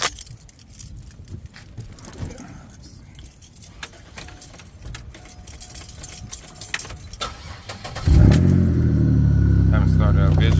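A car engine is cold-started after keys jangle in the ignition, catching suddenly and settling into a loud, steady close idle, with a person talking beforehand.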